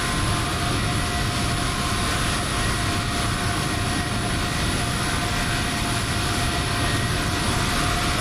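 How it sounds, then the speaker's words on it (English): A Boeing 747 taxis in a flight simulator game, its jet engines giving a loud, steady, unbroken roar with a high whine running over it the whole time. "there's another 747 taxiing in"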